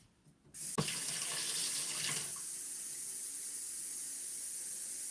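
Drinking water runs from a kitchen tap after a brief click and a sharp knock, settling into a steady, close, hissing stream that continues without a break and without talk.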